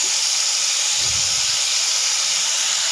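Four medium tomatoes tipped into a hot pan of oil for restaurant-style paneer angara, giving a steady bright hiss and sizzle throughout with a brief soft low thump near the middle, no talking.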